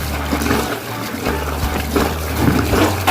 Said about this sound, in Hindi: ऐसे कपड़ा धोता है।